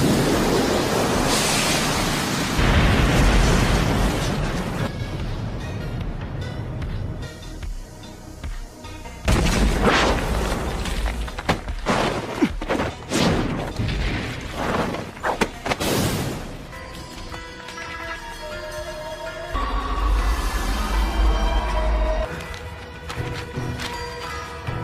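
A fire-style jutsu explosion from the Naruto anime, heavy rumbling bursts and booming roars that swell, fade and return across the scene, loud and broad like a storm with crackling surges.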